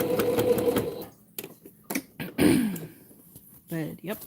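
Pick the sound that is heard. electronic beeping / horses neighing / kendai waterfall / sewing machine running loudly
sewing machine running loudly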